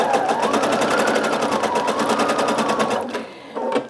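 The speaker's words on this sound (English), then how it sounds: "Let's insert it into the machine and make sure it's all lined up and it hasn't shifted. And just start stitching." A sewing machine runs steadily, close and loud, stitching jelly roll quilt strips for a race quilt, its rapid needle rhythm continuing for several seconds before slowing and stopping with a brief final burst.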